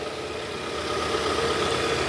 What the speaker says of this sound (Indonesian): Nah ini pertama awal hidup setelah perbaikan kebocoran oli.